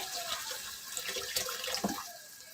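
Water poured from a glass into a pot of cooking Shinwari-style mutton keema with bones, a short continuous splashing pour with a few louder gushes, close and moderately quiet.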